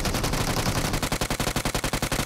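Automatic gunfire in the mobile battle royale game PUBG Mobile, a continuous loud roar of rapid shots that breaks into a fast, even burst of distinct cracks, heard alone without talk.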